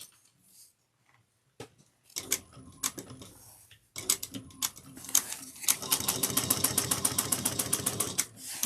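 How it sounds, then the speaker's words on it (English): A sewing machine top stitching a tote bag at a 1/8 inch seam allowance, starting with a few scattered clicks and short bursts, then settling into a fast, continuous rhythmic stitching run, close and moderately loud. "you're going to sew that up. Top stitch it with the 1/8 of an inch seam allowance"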